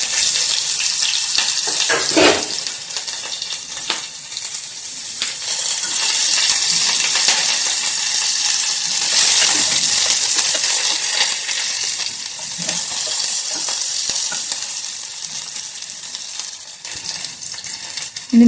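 Onion goes into hot oil where mustard seeds have just popped, bringing a loud, close frying hiss that swells and fades, with scattered pops and clinks from the pan and no voices.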